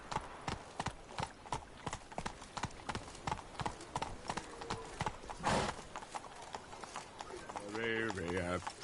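Roach the horse galloping in The Witcher 3, a steady run of loud hoofbeats in quick rhythm, then a whinny near the end, with a voice speaking over it.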